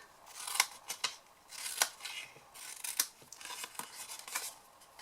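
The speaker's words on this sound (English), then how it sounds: "We're going to cut our little wedges out of our tabs here on the sides." Scissors snip little wedges out of the side tabs of a small paper jam-jar box, a series of quiet, close, crisp cuts spaced irregularly over a few seconds.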